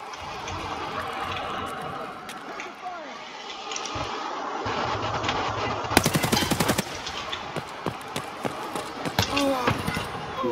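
Gunfire in Escape from Tarkov arrives as a sharp burst of rapid shots partway through, followed by scattered single cracks over background game noise and a faint voice.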